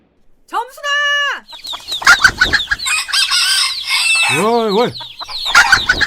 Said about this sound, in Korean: 닭들이 남새를 뜯는데 일수가 없구먼?